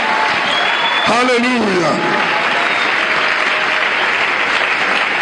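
A church congregation cheers and applauds the king of kings in a loud, continuous wash of clapping and voices, with someone shouting over it near the start.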